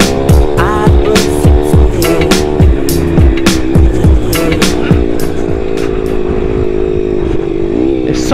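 A pit bike motorcycle engine screams at full throttle very close by, loud buzzing revs rising through gear changes with a rattling clatter over bumpy ground.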